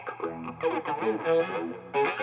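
A voice runs through an effects pedal with added resonance and a light reverb, giving a swirling, phaser-like character to short sung or spoken phrases that play alone.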